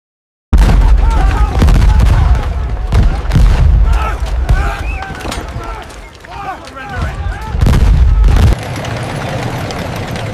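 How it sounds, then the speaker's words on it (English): Cannon fire from Confederate guns at Fort Sumter in 1861: loud, dense booms and rumbling blasts over a battle din, with a spoken voice running through much of it. "Confederate guns opened fire on Fort Sumter."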